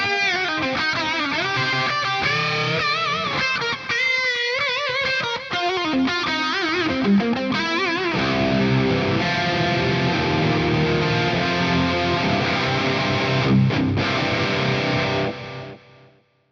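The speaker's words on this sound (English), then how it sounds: "This is a wonderful wide delay with all the things we like about chorus and all the things we like about delay and echo." Electric guitar through a Fractal Audio FM3 with a wide chorus-laden delay, melodic phrases and sustained chords shimmering and repeating in lush stereo echoes before ringing out to silence.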